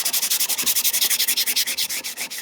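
A piece of 100 grit sandpaper is rubbed back and forth over the markings of a metal measuring tool, making a loud, steady, rhythmic scratching of quick regular strokes with no talk.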